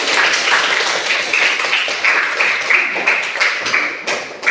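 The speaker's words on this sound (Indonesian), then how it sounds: "Tepuk tangan buat Mas Dili." A classroom of students claps for a classmate during a teaching session, with brisk, dense clapping that runs continuously at a fairly loud level, with no talking over it.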